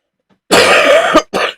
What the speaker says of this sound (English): Excuse me, I've still got a bit of a cough.